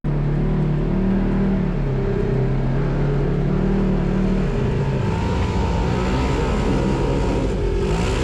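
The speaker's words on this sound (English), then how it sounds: "here's a kid trying out his amphibious terrain vehicle" An amphibious all-terrain vehicle's engine revs loudly and continuously nearby at a dirt off-road park, its pitch rising and falling as the throttle is worked.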